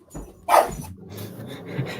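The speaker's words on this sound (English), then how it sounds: "I love the dogs in the background." Dogs bark in the background of a podcast call, with one sharp bark and a few softer yips over low, muffled room noise.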